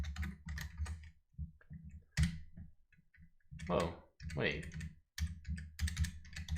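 Bursts of clattery computer-keyboard typing during an NYT Crossword solve, keys tapped in quick runs and short pauses, with a person talking briefly between the bursts.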